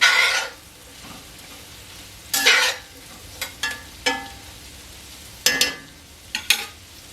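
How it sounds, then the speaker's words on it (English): Vegetables frying in oil for a farm-fresh breakfast scramble are stirred in a pan, giving several separate scraping, sizzling bursts of stirring spaced over a low steady hiss, close and without talk. "Stir it around, make sure you get the oil coated on them too."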